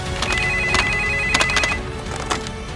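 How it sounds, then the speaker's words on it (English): A telephone rings with repeated electronic ringtone bursts in an irregular rhythm, loud and close, over a busy background. "that's a phone"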